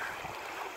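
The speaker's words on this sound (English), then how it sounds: "I'm not sure what this river is called, but it's a real nice, peaceful river." A flowing river at Crescent Bend Nature Park gives a steady, soft broadband rush of moving water, continuous and fairly faint with no voices.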